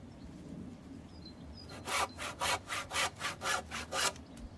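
A hand saw cuts through a wooden greenhouse door post in about eight quick, even back-and-forth strokes, close and fairly quiet after a brief pause.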